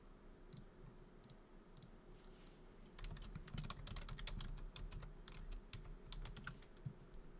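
Steady typing on a computer keyboard, close and fairly quiet, with irregular clicks that speed into a denser run of keystrokes, no talking.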